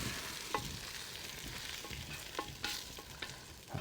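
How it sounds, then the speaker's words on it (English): Potatoes and peppers spooned from a pan into a serving bowl, with soft scraping and several sharp clinks of the spoon against the dish over a faint background hiss. "Gonna spoon that out."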